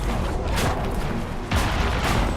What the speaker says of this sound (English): Summon meteors from the sky.